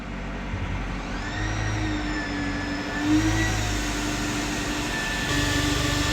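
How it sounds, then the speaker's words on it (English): A Mercedes-Benz Sprinter 316 rear-wheel-drive van engine runs steadily under load as it engages an OBP generator and compressor, a continuous mid-pitched hum with a faint rising whine, heard alone at moderate level. "You can hear the engine engage a little bit down into fourth"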